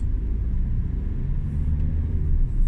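A Vauxhall Zafira Tourer pulls away in second gear, its engine giving a steady, loud low rumble from inside the cabin with no voices.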